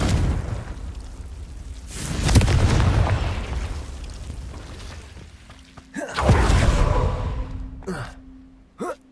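Confringo fire spells in the game Hogwarts Legacy go off twice, each a loud booming blast that trails into a rumbling decay, with a faint hum and short sharp effects near the end.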